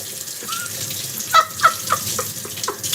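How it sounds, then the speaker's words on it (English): Water runs steadily from a tap into a sink during late-night cleaning, a constant close hissing splash with a few faint chirps or squeaks rising over it. "Sound of water."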